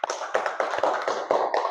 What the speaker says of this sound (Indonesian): tepuk tangan untuk Arumi